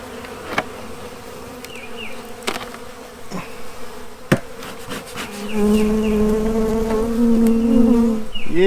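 Honeybees buzz steadily inside an opened hive box from a colony with a heavy mite infestation, a dense, continuous drone that swells louder and fuller in the second half, with a few sharp knocks near the start.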